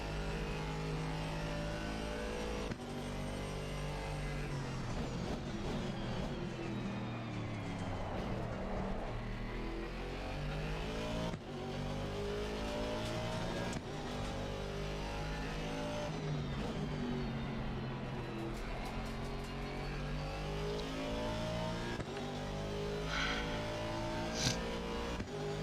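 Race car engine in Assetto Corsa Competizione at Monza, a continuous loud drone that rises and falls through gear shifts and revs for the whole stretch, with brief drops in pitch under braking.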